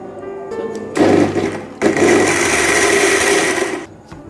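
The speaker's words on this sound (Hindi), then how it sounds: "चलें जी, अब हम अपने शेक को ग्राइंड करेंगे।" A blender grinds mango, milk and ice cubes for a milkshake in two loud bursts of whirring motor noise, stopping briefly between them and then winding down at the end.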